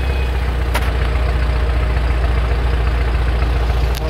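A road roller works on a construction site, its heavy diesel engine droning steadily and loudly nearby with a constant low rumble and no pauses.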